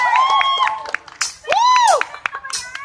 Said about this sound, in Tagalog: Ang hina ng palakpak.